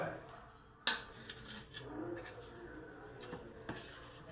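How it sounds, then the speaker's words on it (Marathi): Uttapam batter ingredients, including chopped coriander, being mixed in a bowl, with a few sharp clinks of a utensil against the dish over a soft, steady scraping, close and fairly quiet. "हे बघा हे सगळं मिक्स करायचं."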